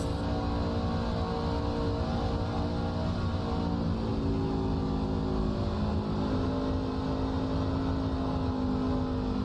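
A race truck engine drones steadily at Atlanta's oval during a racing-series event, a loud, continuous buzzing tone that eases slightly as the driver lifts off the throttle.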